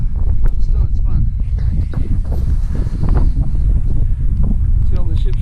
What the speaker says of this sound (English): the wind's blowing like 15 miles an hour, so it's freezing